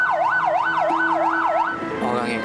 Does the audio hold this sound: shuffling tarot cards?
no